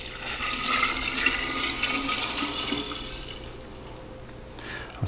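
A drink is poured in a home kitchen, giving a steady, close liquid rush for about three seconds that then thins and tapers off.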